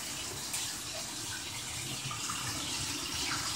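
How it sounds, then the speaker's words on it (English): Liquid is poured onto shredded chicken meat, a steady close splashing, gushing flow that continues throughout without a break. "So you guys can see I poured a quarter into my meat."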